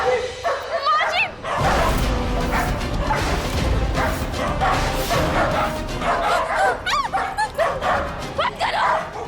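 Dogs bark and yip repeatedly in a Hindi TV serial household scene, loud and close, the barks breaking out in irregular bursts with whimpering cries mixed in while frightened voices shout over them.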